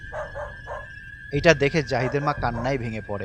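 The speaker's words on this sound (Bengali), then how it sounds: "আর তার চারপাশে কয়েকটা কুকুর ঘেউ ঘেউ করছে।" Several dogs bark in a short cluster of yaps, then a narrator's voice speaks over a faint steady tone.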